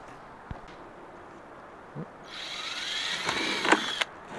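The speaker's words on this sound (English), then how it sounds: "we'll drill holes, and we'll show you the finished product" A couple of faint clicks, then a power drill whirs up and runs for about two seconds, drilling holes in a plastic bucket lid, close and fairly loud.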